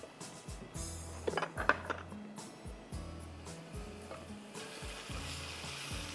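Onions frying golden in a pot, with ginger garlic paste added, make a soft sizzle under repeated rhythmic scraping and clanking of a metal spoon against the pot, including a cluster of bright clinks early on.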